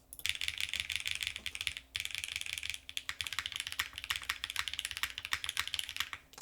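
Typing on an Athena 1800 keyboard with Obscura switches in a polycarbonate top-mount build produces a dense, rapid patter of close clacky keystrokes with brief pauses, steady and clear without any talking.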